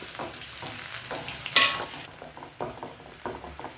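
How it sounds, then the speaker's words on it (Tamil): Onions and green chillies are added to garlic frying in a pan for a drumstick flower kootu. A close, steady sizzle plays under several sharp spoon scrapes and taps against the pan, with a louder clatter partway through and no talking. "இப்போ கொஞ்சம் வெங்காயத்தையும் சேர்த்துப்போம் ரெண்டு மிளகாயும் சேர்த்துக்கோம்"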